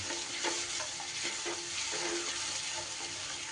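Yogurt sizzling and being stirred in hot oil in a frying pan while cooking a rohu fish curry, a loud continuous fry with scraping stirs throughout.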